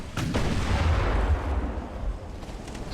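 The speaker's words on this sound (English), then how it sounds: "It's just raining 6-inch gunfire on us." Naval 6-inch gunfire in the warship game Ultimate Admiral: Dreadnoughts comes as a dense rolling barrage of deep booms and thuds, with a few sharper reports standing out over a continuous low rumble.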